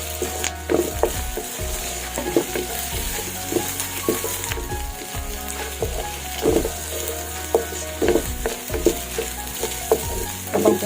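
Boiled cabbage and pork belly stirred in a pan, with a steady sizzling bubbling bed broken by repeated scraping and clinking strokes of a utensil against the pan, close and continuous with no talking.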